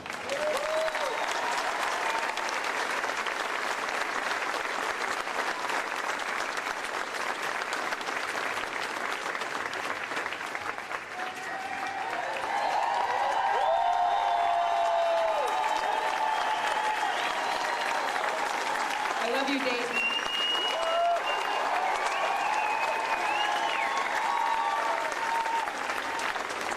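Sustained applause and cheering from a crowd at a nighttime vigil in Dayton, Ohio, loud and continuous, with whoops and voices rising midway and a speaker briefly talking over it.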